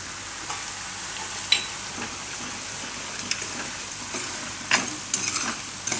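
Asafoetida dropped into hot oil alongside browned garlic for Gujarati garlic raita, a steady close sizzle with occasional brighter crackles and stirring scrapes throughout.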